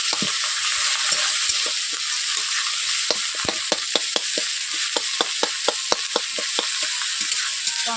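Onions and tomatoes frying in a pan, a steady hiss of sizzling broken by sharp, repeated clicks and scrapes of a spatula stirring, close and fairly loud, without any talk.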